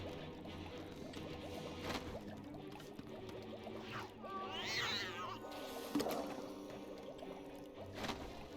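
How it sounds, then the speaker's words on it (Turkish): A cat meows once in LEGO Harry Potter Years 1-4, a short rising-and-falling cry rising over steady game music and background effects. "Pist lan kedi."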